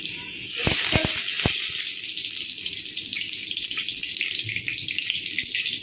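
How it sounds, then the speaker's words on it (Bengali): Cooking oil is poured into a pan still holding leftover oil from frying eggs for egg chilli. A few sharp clicks and a splash are followed by a steady, close sizzling hiss. "এখন এই তেলের মধ্যেই তেল দিয়ে দেবো"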